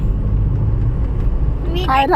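A car driven along on a family trip to a village, its low rumbling engine and road noise steady throughout, with a voice speaking near the end.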